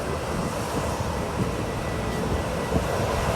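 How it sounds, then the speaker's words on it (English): A JetBlue A320 airliner lands at Fort Lauderdale, heard as a broad, continuous roar of engines and rushing air, steady and fairly loud with no talk. "Here we have a JetBlue A320."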